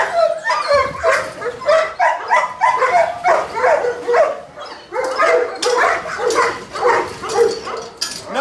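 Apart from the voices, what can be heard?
dog barking and whimpering in a K9 training yard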